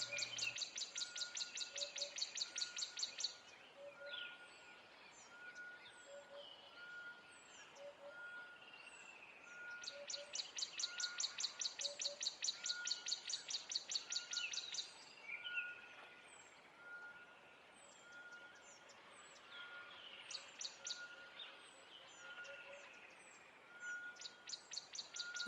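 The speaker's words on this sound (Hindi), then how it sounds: "उसके बाद तरह तरह की पंछी आकर तुबिन जी की दुकान के सामने खेला दिखाने लगी।" Several cartoon birds chirp and trill in repeated bright bursts with short gaps, alongside steady regular beeping tones, gathering in front of a tea shop in a Hindi animated story.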